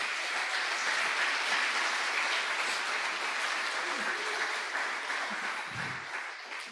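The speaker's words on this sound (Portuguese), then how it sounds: "Vamos aplaudir pela vida do Glauter, gente." A church congregation applauding for a person being received, a steady, dense wash of clapping from many hands that carries on without a break and fades slightly toward the end, with a few faint voices mixed in.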